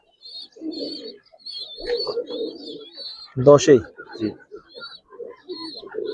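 Giribaz pigeons coo softly in a loft, repeated low rolling calls, with a voice speaking briefly over them.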